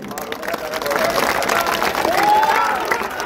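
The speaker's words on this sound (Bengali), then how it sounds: "আপনাদের সবার জন্য সবাই একটি করতালি দেয়।" A large crowd at an outdoor political rally claps and cheers, a loud, sustained wash of applause with shouts and whistles mixed in.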